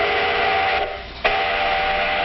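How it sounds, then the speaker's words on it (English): An iron ore train in Minnesota sounds its whistle, a loud sustained tonal blast that dips briefly and then resumes over the rumble of rolling cars. "That's an ore train, a symbol of a great Minnesota industry."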